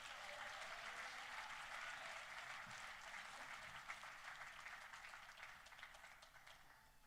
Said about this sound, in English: Please, a big round of applause for our president here at Florida State University, Dr. Richard McCullough